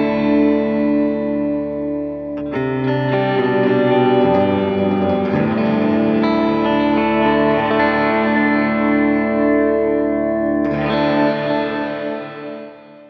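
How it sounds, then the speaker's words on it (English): Clean blackface-style electric guitar tone from an Avid Eleven Rack, strummed chords and picked notes ringing out with reverb and delay trails, played alone at steady volume for about thirteen seconds before fading. "This is gonna be more of a blackface sort of sound, and we've got some reverb and delay happening here as well."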